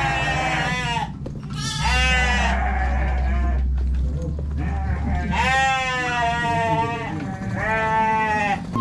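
Goats bleat repeatedly at close range in a rural village area, loud wavering cries coming in several overlapping bursts over a low rumbling engine.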